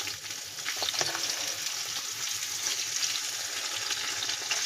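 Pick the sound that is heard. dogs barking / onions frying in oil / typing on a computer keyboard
onions frying in oil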